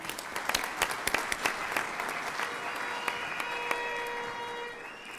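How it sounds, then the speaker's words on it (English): Graduation ceremony audience at a university spring graduation applauding the graduates, a sustained, fairly faint wash of many hands clapping in a large hall with a few sharper nearby claps standing out. "Let's clap hands for them."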